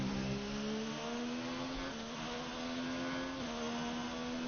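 A racing car engine in a sim racing game at Belgium hums steadily with a rising and dipping pitch as it passes, faint and muffled throughout.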